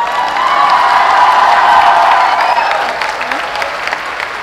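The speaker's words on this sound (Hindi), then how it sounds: "अरे खड़े होके ताली बजाओ" A standing audience at a speaking session claps loudly, the dense applause mixed with some cheering and shouting, swelling and then easing over a few seconds.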